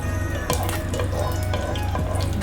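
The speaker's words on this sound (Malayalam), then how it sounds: "എണ്ണ ചൂടാകുമ്പോൾ നമ്മളെടുത്ത് വെച്ച ആ സ്പൈസുകളൊക്കെ പൊട്ടിക്കുക." Whole cardamom, cloves, cinnamon pieces and fennel seeds crackling in hot oil for a chicken curry, a dense continuous sizzle close up, dotted with sharp pops and a few louder stirring scrapes.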